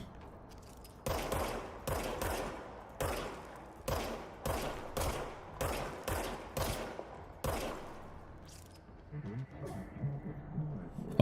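Video game gunfire from the player's weapon: about a dozen evenly spaced loud shots, each with a short decaying tail, then a quieter stretch at the end.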